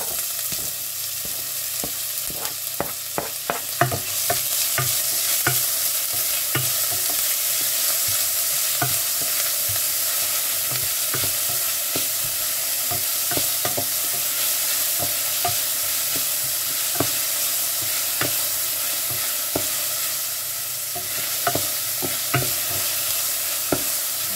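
Garlic and onion sautéing in a hot pan, a continuous close sizzle broken by frequent sharp scrapes and clicks of a spatula stirring, with no talking.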